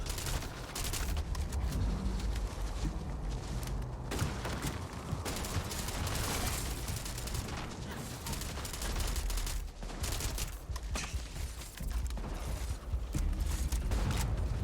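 Rapid, dense gunfire crackles in a space-themed shooter video game, a continuous volley of automatic shots and booms with mechanical clanks, loud and unbroken throughout.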